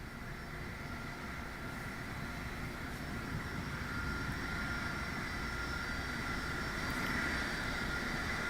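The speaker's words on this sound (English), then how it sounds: "show off the shuttle carrier aircraft and Space Shuttle Endeavour one last time for the workforce and residents here of the Space Coast before flying back" A Boeing 747 shuttle carrier aircraft carrying Space Shuttle Endeavour flies over the Space Coast, a faint, steady distant engine roar with a broad droning hum that builds slightly over several seconds.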